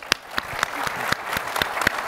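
A small audience gives a quick round of applause for panelists at an investor panel event, a modest crowd of mixed claps with several sharp, close hand claps standing out above the rest.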